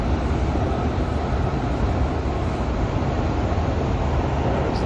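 The Blue Symphony train passes near Osaka with a steady, loud rolling rumble and broad rail noise throughout, no voices.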